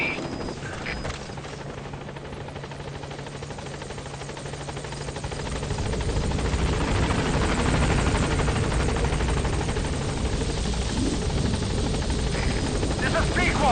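Pequod helicopter in Metal Gear Solid V: The Phantom Pain gaining altitude, a steady rotor and engine roar that swells louder partway through and holds, with a voice talking over it early on.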